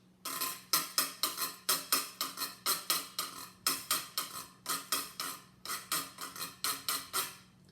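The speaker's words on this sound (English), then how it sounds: "that's going to make a kind of scraping sound like this." Rapid ratcheting scrapes across the ridged side of a tin can, in quick grouped bursts of clicky strokes, close up and alone.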